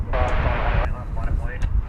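An American airliner takes off from runway 18 Left at DFW Airport as a steady low jet rumble and roar sit under a loud radio voice.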